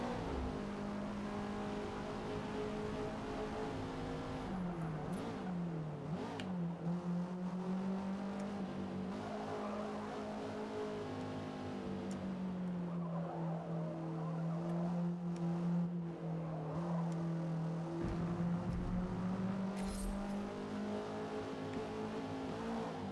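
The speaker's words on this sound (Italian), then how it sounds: "questa macchina va molto forte, eh." A race car engine in Forza Motorsport drones continuously, its pitch climbing and dropping with gear shifts and corners, with an occasional brief tire squeal.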